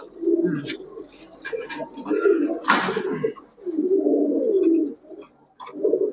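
Indian Kaldom pigeons coo in repeated soft, throaty bursts close by, with short pauses between calls and a brief sharper noise in the middle, while voices talk around them.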